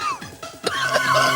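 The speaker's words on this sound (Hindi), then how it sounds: "वो खांस रहे हैं।" A man coughs in a short, harsh burst that turns into throat clearing, heard close up with no other sounds around it.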